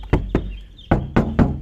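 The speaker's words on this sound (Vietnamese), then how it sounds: "Đấy, các bác nghe tôn cửa đấy ạ" Knuckles rapping the sheet-metal door of a Hyundai Accent car: five close, hollow knocks, a pair followed by a quick group of three.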